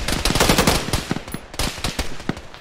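Automatic gunfire in the video game Arma 3 as a fire team is engaged: dense, rapid bursts of shots crackling near and loud through the whole stretch, with no talk over them.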